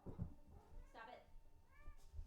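A house cat meows a couple of times at close range, drawn-out, rising-and-falling cries, while a person's voice murmurs in the background.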